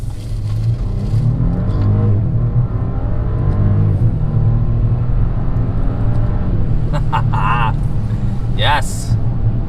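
2021 Audi Q8 accelerating hard in first gear, engine note climbing steadily inside the cabin under continuous conversation.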